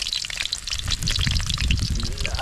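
Chopped garlic hits hot oil in an outdoor cooking pan on a farm, giving a loud, steady sizzle and crackle that fills the whole moment, close up and without talk.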